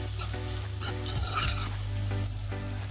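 A utensil scrapes and stirs noodle sauce mix in a hot pan, making repeated rhythmic scrapes over a steady low sizzle, close and clear, with no voices.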